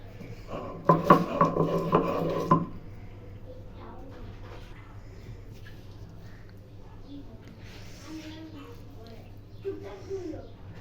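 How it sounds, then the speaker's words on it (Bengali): Fried onion, green chili and garlic are ground on a stone slab. A burst of gritty rubbing and scraping comes early on, then fades to quieter, intermittent scraping with faint voices in the background. "এগুলো এখন শিলপাটায় বাটবো"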